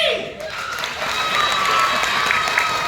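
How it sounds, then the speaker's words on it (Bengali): An audience claps and cheers at the close of a street magic show, a dense continuous patter of applause swelling slightly and holding steady. "ওকে চলে হাততালি"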